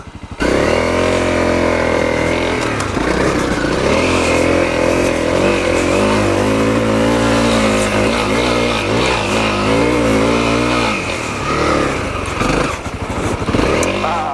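A Honda CRF250L dual-sport motorcycle engine labors up a hill at Ocotillo Wells, loud and close, its revs rising and falling steadily for about fourteen seconds with no talking.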